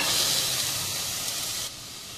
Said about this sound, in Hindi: दाल भीग चुकी है, अब इसको उबाल लेंगे।